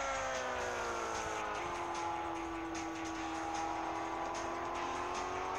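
Motorcycle engine in the Real Bike Racing video game, a steady high droning whine holding pitch with slight rises, continuous and fairly loud, with no talk over it.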